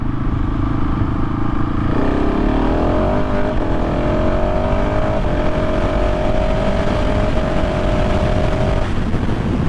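A KTM 690 SMC R single-cylinder motorcycle accelerating hard, its loud close engine note climbing steadily through the revs and shifting gears, with heavy wind rumble and no talk.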